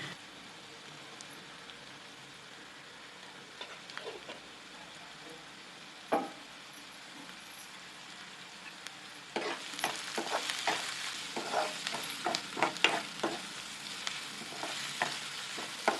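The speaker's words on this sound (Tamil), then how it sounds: "வெங்காயம் வதக்கும் போது கொஞ்சமாக உப்பு, உப்பு போட்டு கொஞ்சமாக மஞ்சள் தூள் போட்டு" Onions sautéing in a pan with salt and turmeric powder: a soft, faint sizzle at first, then from about the midpoint a louder run of stirring scrapes and crackling frying, fairly close, with no talk.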